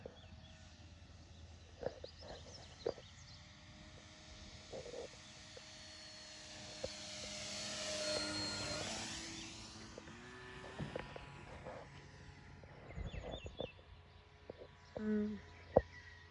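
An RC model airplane flies a low pass with flaps set, its thin engine whine swelling from faint to a peak overhead and fading away outdoors.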